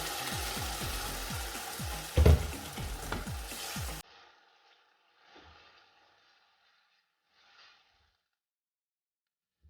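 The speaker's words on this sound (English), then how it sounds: "Add my blended pepper." Blended pepper poured into a hot pot for chickpeas sets off a loud bubbling sizzle with stirring, which cuts out abruptly into near silence broken by a few faint knocks.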